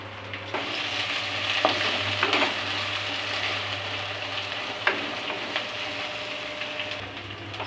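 A single chopped onion with a bay leaf sautés in a pan on a medium flame for dal fry, giving a steady, close sizzle broken by occasional stirring taps and a low background hum, with no talking.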